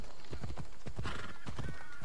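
Horse hooves clip-clop in quick, even steps in the Assassin's Creed Odyssey video game, fairly soft and close, with a faint whinny mixed in.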